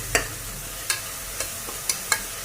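Ground shallot paste sautéing in a pan for mutton kuzhambu, a low steady sizzle broken by about five sharp spoon scrapes or stirs spaced unevenly; no voices.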